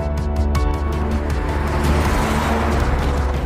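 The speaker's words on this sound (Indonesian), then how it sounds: "Jonji segera menancap gas dan menerabas sisa-sisa zombie yang ada di sana." A car engine revs and roars as the vehicle accelerates away through a crowd of zombies in a film scene, with harmonic engine whine, a brief tire squeal and rising, loud rushing motion noise.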